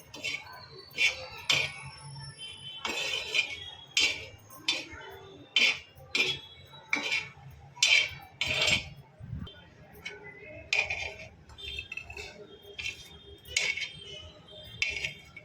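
A metal spoon clinks and scrapes repeatedly against a bowl while black chana chaat with green coriander is stirred together, a rhythmic series of sharp close taps and rattles over a quiet background.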